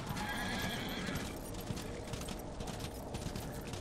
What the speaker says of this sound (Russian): Мне надоело с лошадкой бегать.